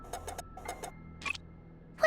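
Alarm in the video game Genshin Impact: a few short, clipped electronic beeps in quick clusters, then a brighter ringing burst, moderately quiet over a low game hum.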